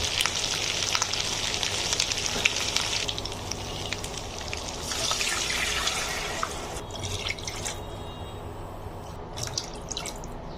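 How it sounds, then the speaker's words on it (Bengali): Spices fry in a pan on a stove turned down low while making white chicken biryani, giving a steady close sizzle with a bright hiss that surges and eases in waves, with no voices. "আমি এক মিনিট ভেজে নেব এবার আমি চুলাটা একটু কমিয়ে দিচ্ছি"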